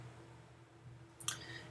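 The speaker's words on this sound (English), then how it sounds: "So we're going to double click over here." Two quick mouse clicks in close succession, a sharp double click heard near and alone over a low steady hum while editing a Cars-inspired image in Photoshop.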